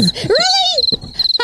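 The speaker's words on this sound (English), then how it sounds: "What's with the crickets?" Cricket chirping sound effect dropped into a podcast conversation, a steady high-pitched trill running through the short clip while someone speaks over it.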